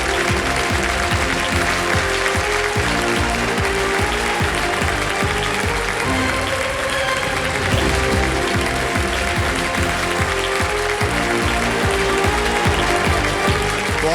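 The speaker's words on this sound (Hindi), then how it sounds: "एक बार फिर तालियां बज जाए" Studio audience applause on the KBC game show, a loud, continuous roar of many hands clapping that stays steady throughout, with a rhythmic patterned pulse in the low end.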